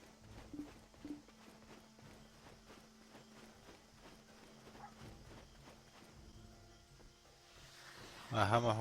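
Horse hooves clip-clop at a steady walking pace in Black Desert Online, with in-game ambience under them and a louder burst of sound near the end.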